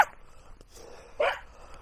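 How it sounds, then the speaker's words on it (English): Small dog yapping and barking outdoors while fetching a stick in winter, with a sharp bark at the start and another louder burst of barks a second later, near and brief, with quiet gaps between. "Now this usually involves a bit of yapping and barking."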